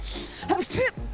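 A woman sneezes once, close by, a sharp breathy burst with a voiced catch, set against quiet background hum.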